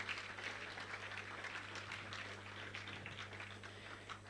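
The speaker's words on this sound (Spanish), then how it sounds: "Démosle una ofrenda de palmas al Señor por nuestros hermanos de Porto di Mare que están con nosotros." A church congregation gives a round of applause during a Spanish-language service, steady clapping spread evenly throughout, moderately distant and fairly quiet, with no speech over it.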